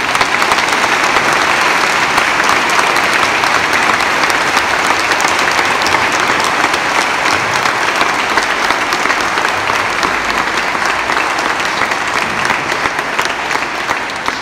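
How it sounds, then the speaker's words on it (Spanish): Loud, sustained applause from a large crowd fills a church during a feast-day celebration in Xalapa, welcoming the archbishop, a dense continuous clapping that holds steady throughout with no speech on top. "nuestro querido arzobispo don Jorge Carlos, para quien pido un aplauso muy fuerte de bienvenida"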